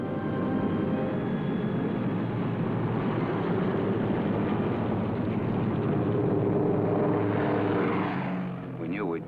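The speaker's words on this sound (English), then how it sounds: "we heard the roar of engines as the Pathfinder ships began hopping off" Propeller aircraft engines roar steadily as Pathfinder planes take off before D-Day, a dense, continuous drone that fills the whole stretch, with faint voices mixed in and a slight swell near the end.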